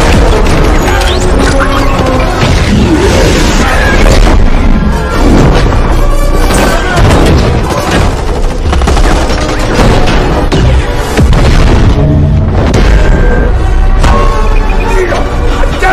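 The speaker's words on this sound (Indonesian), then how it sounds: "Sebelum akhirnya kembali terlibat adu tembak dengan para penjaga." A chaotic shootout with guards in The Flash (2023), with loud, dense bursts of gunfire, impacts and crashes running continuously over a busy action soundtrack.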